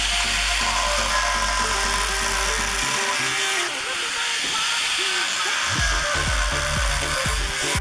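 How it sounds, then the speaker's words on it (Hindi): An angle grinder whines steadily and loudly as it cuts drainage slots into the bottom of a plant pot while repotting an adenium, the motor tone dipping briefly mid-cut before resuming. "ग्राइंडर की सहायता से हम इसके अंदर कट लगाएंगे।"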